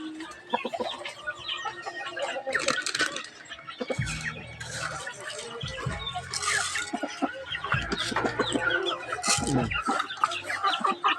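Chickens in a backyard coop cluck and squawk while being fed, repeated short calls near and far, with scattered low knocks and occasional voices mixed in.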